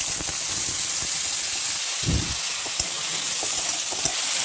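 Diced potatoes fry in ghee in a kadhai for sabudana khichdi, giving a continuous close sizzle with a brief louder burst midway and a few light clicks.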